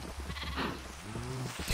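A single short, wavering sheep bleat from a Minecraft-style video game on a multiplayer survival server, fairly close and clear over a steady hiss of game background noise, with no talking.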